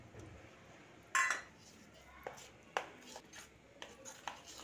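A spoon works through rava dhokla batter in a bowl, giving scattered clinks and scraping taps against the bowl, close but quiet over a faint background.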